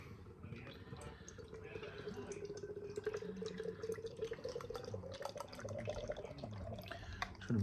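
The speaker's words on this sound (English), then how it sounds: "I'm trying to really pour it really aggressively to get a bit of a head on this." Cloudwater Mayonaise Bright IPA poured hard into a glass to raise a head, a steady splashing, gurgling stream running for several seconds close by, with a voice over part of it.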